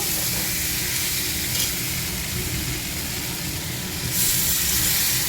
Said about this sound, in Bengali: এই যে ভাজা হয়ে গেছে মশলা দিয়ে, এবার জল দিয়ে দেবো